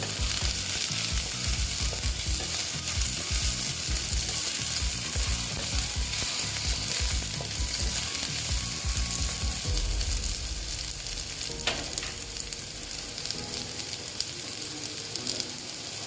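Small fish and potatoes frying in oil in a pan, a constant close sizzle with occasional stirring scrapes and clatters throughout.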